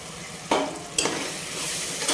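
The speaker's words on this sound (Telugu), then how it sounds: "ఇప్పుడు మిక్సీ వేసుకున్న మసాలాను కూడా దీంట్లో వేసుకొని ఒకసారి అంతా మళ్ళీ బాగా కలుపుకోవాలి" Stirring ground masala for prawn curry in a hot pan with a steady sizzle, marked by a few sharp scraping strokes about half a second apart.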